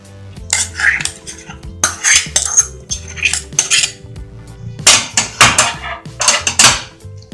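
A metal spoon repeatedly scrapes and clinks against a bowl while mixing, in quick uneven bursts, close and clear with no talking.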